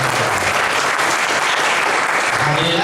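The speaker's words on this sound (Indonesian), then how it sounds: "sekali lagi tepuk tangan yang meriah untuk kita" A seminar audience applauds loudly and steadily, dense clapping filling the whole stretch without a break.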